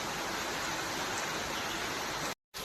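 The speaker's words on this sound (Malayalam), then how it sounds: "അപ്പോൾ നല്ലൊരു മഴ വന്നു." Steady rain falling outside a house in Bangalore, a dense, even hiss with no breaks, ending abruptly in brief silence.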